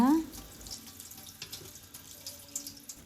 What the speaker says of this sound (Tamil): இந்த டிஷ்ஷுக்கு தேவையான கீரையை மட்டும் எடுத்து நல்லா ரெண்டு மூணு வாட்டி நல்லா மண் போக அலசி எடுத்து வச்சுக்கோங்க